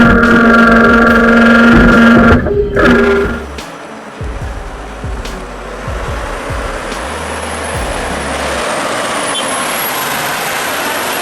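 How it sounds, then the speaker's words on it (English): A convoy of heavy European big rig trucks hauling loads of tens of tons rumbles past, with a loud engine roar that fades into a steady, more distant drone and a brief hiss like an air brake near the start. "This convoy of European big rigs is an awesome sight, hauling heavy gear weighing tens of tons"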